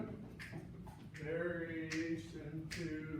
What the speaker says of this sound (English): Saxophones, clap and count variation 2.